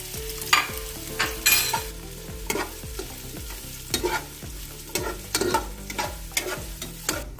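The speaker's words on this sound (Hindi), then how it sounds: "गाजर को पहले फ्राई करते हैं। ऑयल हमारा गर्म हो चुका था।" Carrots frying in hot oil for Kabuli pulao give a continuous close sizzle, with a spatula scraping and knocking against the pan in a fairly regular rhythm. Nobody speaks.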